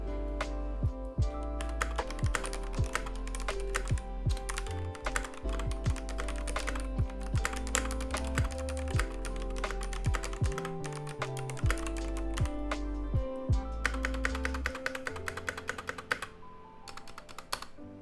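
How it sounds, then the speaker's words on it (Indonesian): Rapid typing on a Noir N2 mechanical keyboard fills the recording, dense close clacks with irregular rhythm and occasional heavier key thocks, continuing alone without talk until a brief slowdown near the end. "ini adalah sound test dari keyboard ini."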